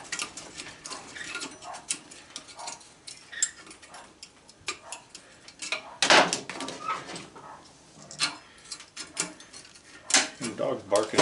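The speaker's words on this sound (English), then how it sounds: "The dog's barking at something out there." A dog barks outside in short, intermittent bursts while a person talks and metal parts clink during magnetron scrapping for copper, brass and aluminum.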